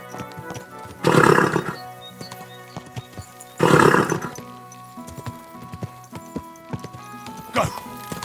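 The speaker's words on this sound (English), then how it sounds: "Easy, good horse." Two loud, shrill horse whinnies rise and fall in the video game Kingdom Come: Deliverance II, with hooves clopping between them and a third shorter neigh near the end, amid other game sounds.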